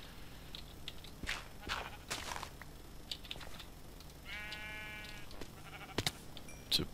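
Blocky sheep in the Minecraft Feed the Beast modpack let out a short quavering bleat, fairly quiet, amid soft footstep taps and faint game sounds.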